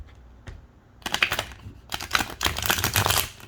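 A deck of thin, soft oracle cards is shuffled up close in several quick, crisp riffling bursts separated by short pauses.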